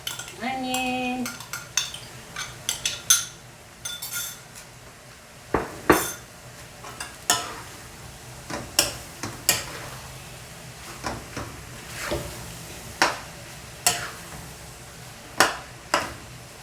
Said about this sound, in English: I'm going to add my onion and garlic back to the pan. That way it'll flavor the meat.